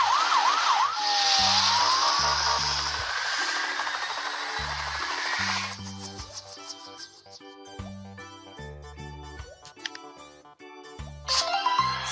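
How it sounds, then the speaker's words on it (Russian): A warbling emergency siren, apparently from a children's toy or cartoon fire truck, rises and falls loudly for several seconds, then gives way to a jingly musical tune with plucked notes and chimes. "Пожарная машина."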